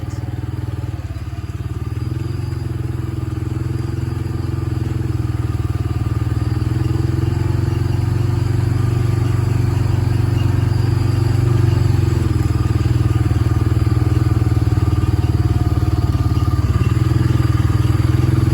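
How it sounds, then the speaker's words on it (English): A steady engine drone rumbles low and continuous, like a four-wheeler idling or cruising nearby, with occasional clatter and thumps over the motor. "we'll just have to put up with some four-wheeler sounds"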